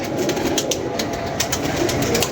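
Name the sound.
pigeons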